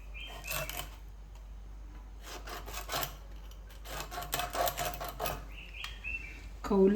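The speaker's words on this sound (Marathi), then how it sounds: "खवलं आहेत ती काढून घेणार आहे. एकदम पापलेट फ्रेश असल्यामुळे ह्याला खवलंसुद्धा भरपूरच आहेत आणि ती अशी काढून घ्यायची." Steady rasping scrapes from a knife removing scales off a fresh pomfret, rising and falling in bursts over several seconds with faint background noise.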